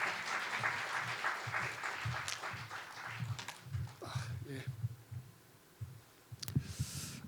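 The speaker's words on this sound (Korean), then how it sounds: "큰 박수로 부탁드리겠습니다." An audience at a Korean science culture innovation forum claps for about five seconds. The clapping is moderate and somewhat distant, with voices mixed in, then it thins and fades toward the end.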